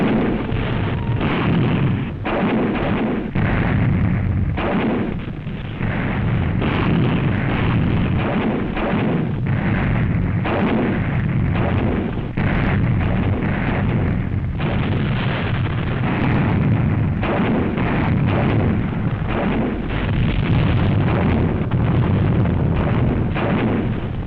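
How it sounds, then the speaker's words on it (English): Massed Canadian tanks fire an artillery barrage, heard as dense, overlapping booms and blasts rolling on without a break. The bombardment is heavy and continuous, with a muffled, old-recording tone. "A typical Montgomery barrage is laid down as elbow-to-elbow Canadian tanks throw over a"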